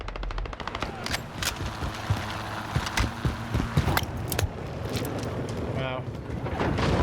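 Video game gunfire in a combat match, with rapid bursts and sharp single shots scattered throughout amid busy game effects, while players talk over it.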